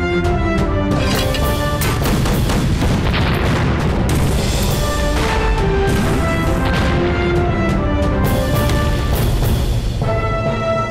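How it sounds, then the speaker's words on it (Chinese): Mortar shells explode in a war film battle scene, a series of deep booms and crashes layered over dense, continuous loud action sound with repeated impacts. "轰，给我狠狠的轰！"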